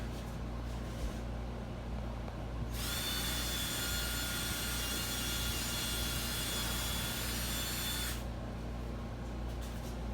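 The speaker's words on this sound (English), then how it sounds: "we're going to go ahead and drill this to the wall" Power drill driving into wall studs while mounting a Murphy bed, a sustained whining drill run of about five seconds starting and stopping abruptly over steady low room hum, with no voices.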